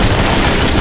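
Gunfire in Resident Evil 7: a very loud, continuous burst of rapid shots filling a brief moment without pause.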